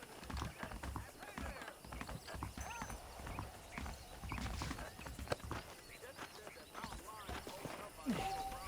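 Horse hooves clip-clop steadily at close range, with an occasional whinny, over background music and ambient game sounds from Red Dead Redemption.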